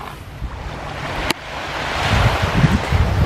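Ocean surf and wind along the Vancouver shore in December make a continuous broad rush with a sharp click partway through, swelling louder and closer toward the end as the waves build, with no speech.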